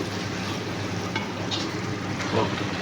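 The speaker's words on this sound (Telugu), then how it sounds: "టమాటా గుజ్జంతా ఇలా పేస్ట్ చేసేసుకొని టమాటాలు ఇలా వేసేసుకోవాలి తీసుకొని బాగా వేగనివ్వాలి" Tomato paste and chopped tomatoes fry in a pan while mutton paya is being cooked, giving a continuous close hiss and crackle of sizzling oil with a few soft stirring scrapes and no speech.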